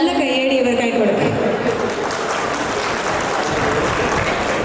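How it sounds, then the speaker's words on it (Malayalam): Wedding guests applaud the newlyweds, a dense burst of many hands clapping that swells in and carries on steadily at moderate volume. "ഒരിക്കൽ കൂടി നമുക്ക് എല്ലാവർക്കും ഒരു നല്ല കയ്യടി ഇവർക്കായി കൊടുക്കാം"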